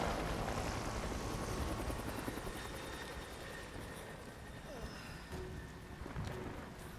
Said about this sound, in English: big boy helicopter